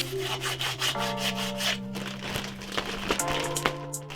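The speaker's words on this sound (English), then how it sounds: "we'll just kind of scrub that out real quick just to get the rust out on this upper section" Rust is scrubbed off the upper section of a motorcycle front frame on a Ninja 500R, giving rapid close rasping strokes in a steady rhythm, with humming tones in the background.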